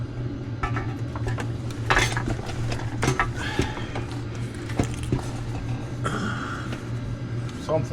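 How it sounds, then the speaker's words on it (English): A metal Banks transmission pan for a Chevy/GMC Allison 10L1000 is handled, with clinking, scraping metallic knocks and rattles close by over a steady low hum, and a person talks throughout. "now I'm gonna go get the Banks pan and we're gonna slide her up in there"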